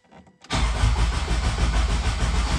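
Mazda RX-7 rotary engine running on a MaxxECU with a dual-clutch transmission swap: a short quiet moment, then a sudden crank-and-catch into a loud, steady idle with a fast pulsing drone close to the microphone.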